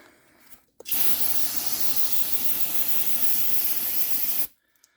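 An aerosol can of brake cleaner sprays steadily onto the front brakes of a 2007 Ford Focus, one loud continuous hiss lasting about four seconds, close up, starting and stopping abruptly with no talking.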